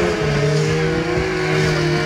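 Loud, close SXS side-by-side off-road vehicle engine revving hard at an outdoor auto-moto show, a sustained buzzing roar with strong steady tones holding high revs for the whole stretch.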